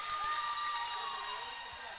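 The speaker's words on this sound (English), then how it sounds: "Here's the crowd making some noise." Crowd at a college basketball game between Mount Marty University and Waldorf University, cheering and making steady noise during free throws late in a close game, a continuous roar of voices filling the gym.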